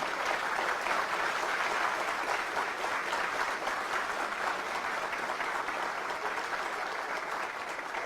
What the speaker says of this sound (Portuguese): Eu gostaria de pedir também a todos uma salva de palmas para esses guerreiros que estão lá na linha de frente.